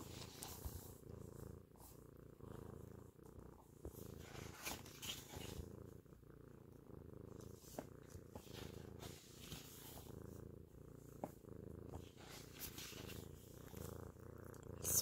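A cat purring steadily and softly while lying on a person, the low rhythmic purr continuing throughout with no talking.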